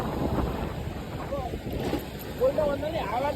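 Strong wind buffeting a microphone aboard a boat, a steady broadband rumble lasting throughout and loud and close, with brief faint voices breaking through near the end.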